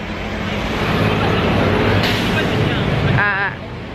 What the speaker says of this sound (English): That's a very loud truck.